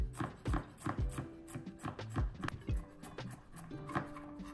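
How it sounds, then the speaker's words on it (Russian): A knife chops red onion and garlic cloves on a cutting board in quick, irregular taps, close and crisp, a steady run of strokes. "Их мелко нарезаем."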